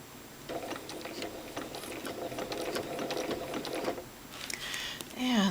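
Sewing machine running for free motion quilting with rulerwork, a soft close rapid mechanical chatter of stitches for several seconds, then a short pause and a final burst.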